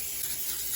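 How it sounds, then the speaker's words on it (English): Olive oil cooking spray hisses in one steady, close burst over chopped zucchini, a continuous airy spray with no pauses. "I'm just gonna use some olive oil spray."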